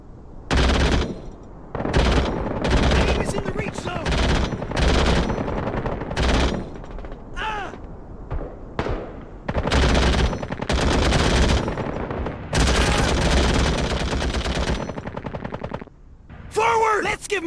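Rapid bursts of machine-gun and rifle fire in the Call to Arms game battle, loud and nearly continuous, with short pauses between volleys and voices shouting over the shooting.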